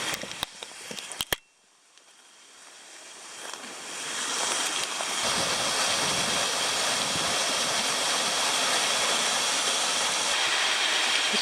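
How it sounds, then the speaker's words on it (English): A small waterfall and stream along a trail at Piney Creek WMA in the Ozarks makes a steady rushing wash of water that swells after a brief sharp knock, then holds constant without speech. "on this trail, I found a waterfall"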